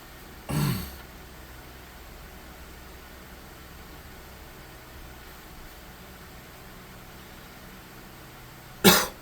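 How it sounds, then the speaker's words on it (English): Two short, sharp coughs, one at the start and one near the end, separated by a long stretch of quiet background hiss. "I think I'm starting to get a little bit of a cough."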